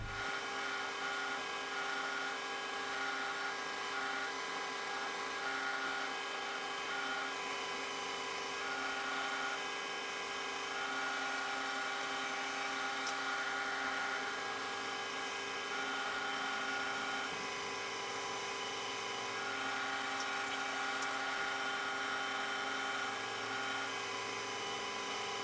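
A lathe with its compound set to 45 degrees cuts a weld prep on a tailstock chuck part, giving a steady machine drone and tonal whine that runs unbroken throughout, with no voices.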